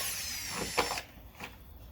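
A power drill whines briefly at high pitch, then cuts out, followed by a short fainter burst; quiet surroundings, no talking.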